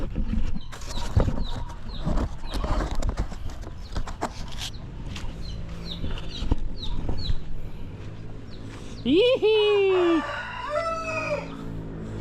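A rooster crows loudly near the end while chickens cluck and shuffle throughout, with a few short calls scattered across a busy barnyard.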